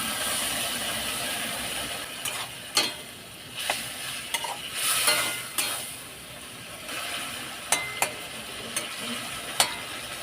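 Prawns fry in a pan with a splash of water, Maggi masala and chopped coriander, giving a continuous soft sizzle broken by sharp spatula scrapes and clicks as they are stirred.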